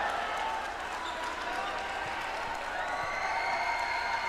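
Basketball crowd at a local cup game making a steady roar of cheering and noise after a blocked shot, fairly distant and continuous with a few sharp knocks.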